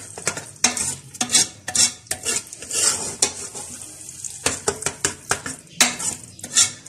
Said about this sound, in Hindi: यहाँ साग में ये सारी पेस्ट आटे के डाल देंगे इसके अंदर। और इसको अच्छी तरह से मिक्स कर लेंगे।